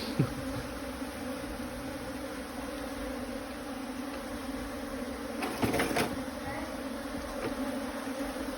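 Asian honey bees swarming into a hive cavity, a steady dense buzzing hum close by, with a few brief rustling knocks partway through.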